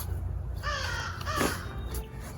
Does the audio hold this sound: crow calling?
yes